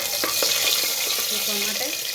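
Paneer pieces sizzling in a pan with cumin as they are fried for paneer sabji, a steady, close hiss with faint scraping and crackling and no talk.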